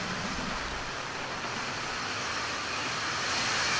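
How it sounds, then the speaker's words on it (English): Atlas rocket climbing after liftoff on the NROL-101 mission for the National Reconnaissance Office, a steady broadband roar held at constant loudness throughout, with no voices. "Liftoff to the Atlas NROL 101 mission for the National Reconnaissance Office."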